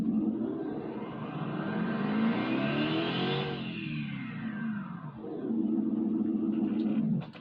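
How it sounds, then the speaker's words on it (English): Hellcat engine revving, a single rising sweep that peaks and falls away before settling into a steady drone, heard at a fairly low volume with no talking. "I want you guys to hear my Hellcat that I recently made."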